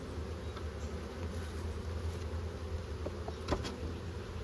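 Honeybees hum steadily at a hive in a dense, low buzzing drone, with a few brief clicks and knocks nearby.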